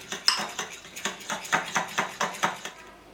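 Quick rhythmic strikes of a whisk or spoon against a bowl as yogurt is beaten with cream and milk, about a dozen evenly spaced clinks close up, with no talking.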